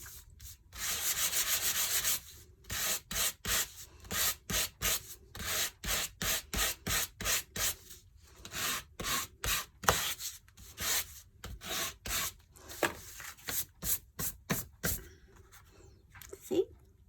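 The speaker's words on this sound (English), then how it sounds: "once again we get our sanding block" Sanding block rubbed over foil card, rapid repeated back-and-forth scratchy strokes in quick bursts with short pauses between, close and fairly loud, continuing for over a dozen seconds.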